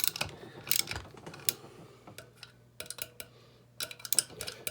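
A valve spring compressor is wound down on a Chevrolet LS 5.3 engine, giving close, irregular metallic clicks and ratcheting ticks with short pauses between them.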